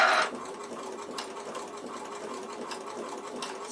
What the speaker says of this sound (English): stitch some really nice big wide rows of zigzag